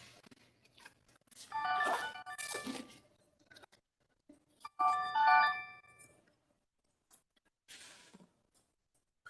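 A mobile phone ringtone plays during an academic seminar on cultural norms, in two loud melodic bursts separated by a pause, followed by quieter scattered noises in the room.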